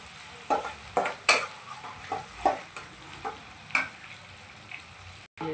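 Onions frying for a Bangalore-style chicken liver curry are stirred in a pan, with repeated scraping strokes of a spoon about every half second over a steady sizzle, close and moderately loud, with no talking.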